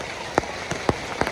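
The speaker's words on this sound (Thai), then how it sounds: "แล้วฝนตกแล้วโอ้ยดีใจได้ฝนตกเอา" Rain falling outdoors in rural Thailand, a steady hiss of rainfall with a few sharp raindrop taps landing on a surface close by, no voices.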